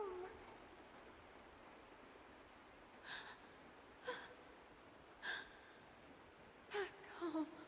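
Steady rain hiss in the game Honkai: Star Rail, faint and continuous, with a few brief breathy gasps or snorts breaking through at intervals.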